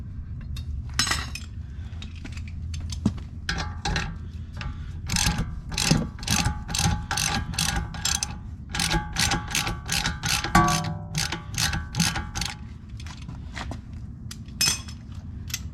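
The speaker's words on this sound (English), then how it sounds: "Alright, so we're going to take this bolt off now. It's a 15 millimeter." A ratchet loosening a 15 mm bolt on the rear upper control arm of a 2009 Ford Fusion SEL V6 gives rapid bursts of metallic clicking that repeat in steady strokes up close.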